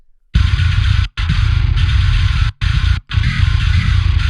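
A gritty, heavily distorted bass holds a low, buzzing line with a couple of brief breaks, loud and up close.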